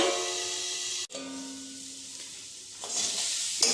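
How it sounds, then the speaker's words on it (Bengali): Onions salted and stirred in a pan for an oil-free chicken dish, a soft sizzle and scraping stir, with a sharp knock and a brief hiss near the end. "একটু নাড়াচাড়া করে 1 মিনিটের জন্য ঢাকবো, যাতে পেঁয়াজটা একটু নরম হয়ে আসে।"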